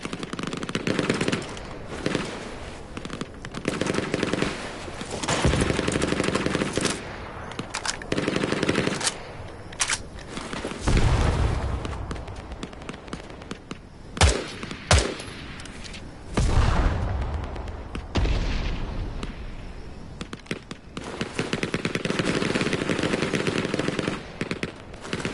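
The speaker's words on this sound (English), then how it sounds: "Shots fired" Sustained gunfire in the World War II shooter Hell Let Loose on PS5: loud, close bursts of machine-gun fire and single shots, broken by deep booms and distant artillery, with brief pauses between volleys.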